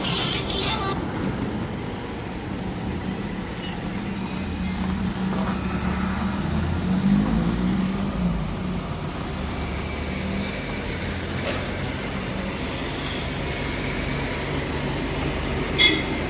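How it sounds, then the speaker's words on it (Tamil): A Maruti 800 car's engine runs with a steady, fairly loud low rumble and broadband road-like noise that continues evenly throughout, with no clear separate start-up burst. "இப்போ வண்டி அதே மாதிரி கிளம்ப போகுது"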